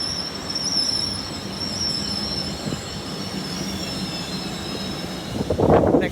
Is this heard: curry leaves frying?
no